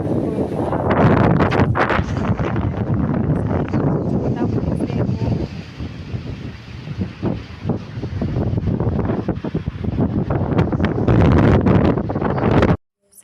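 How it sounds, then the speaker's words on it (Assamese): Strong wind blowing outdoors during a storm, buffeting the microphone with loud, continuous roaring gusts that dip briefly midway before surging again. "জোৰে বতাহ বলি আছে"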